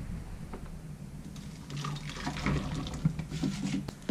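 A milk and cream mixture is poured into a cooking pot, a steady, close liquid stream that gradually grows louder and ends in a brief clatter.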